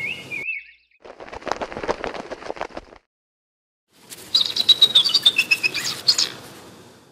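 Rare songbirds in an animated fairy-tale cartoon chirp and trill in two lively bursts separated by a short pause, the second burst louder and more tuneful, with no speech over them.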